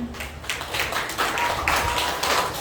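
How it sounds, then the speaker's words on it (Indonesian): A church congregation gives a brief round of applause, a scattered burst of hand clapping in a room, short and moderately loud. "Mari kita berikan tepuk tangan."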